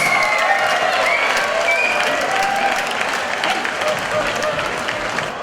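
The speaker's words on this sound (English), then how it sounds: "Hey guys, a round of applause" A fight crowd applauds loudly and steadily after a bout between Tharoth Oum Sam and Surarak Kamla, continuous clapping with faint voices and whistles mixed in.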